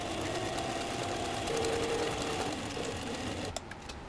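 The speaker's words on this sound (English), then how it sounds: "One more trip to the sewing machine for those last 3 sides." A sewing machine stitching leather hums steadily with a fast, even mechanical chatter, running continuously before slowing near the end.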